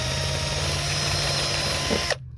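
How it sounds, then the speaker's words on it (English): A power drill whirs steadily at close range while stripping Plasti Dip coating, then cuts off abruptly near the end, leaving near silence. "If it's peeling off this side, I turn the drill going up."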